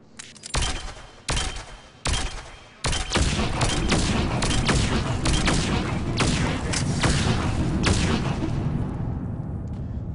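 Weapon gunfire in Mass Effect 3 on Insanity difficulty, set on the Citadel: a few separate loud shots open, then a dense, sustained barrage of overlapping shots and booms continues to the end.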